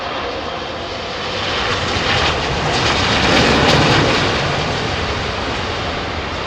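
At touchdown on a London Heathrow runway, an airliner's engines give a loud, broad roar that builds toward the middle and then eases slightly, with no talking.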